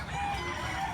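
Gamefowl hens and roosters in a coop give a brief burst of clucking and crowing, close and continuous for about a second.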